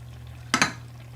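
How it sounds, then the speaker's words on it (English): A utensil stirs spaghetti with cheese in a skillet, giving two quick close scraping clinks against the pan over a steady low background hum. "I just want to make sure that my spaghetti is thoroughly stirred because I want to get some cheese on every single piece"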